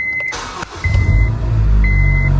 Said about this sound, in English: I'm gonna start my car and hopefully it doesn't blow up